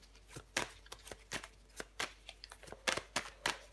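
Tarot cards are shuffled and laid out in a rapid run of crisp papery flicks and slaps, close and clear, with no talking over them.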